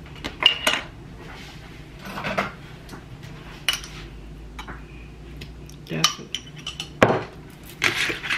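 Pasta tossed with jerk seasoning in a pan brings repeated metal clanks and scrapes of a utensil against cookware, coming in irregular bursts with quieter gaps, while a person talks between them.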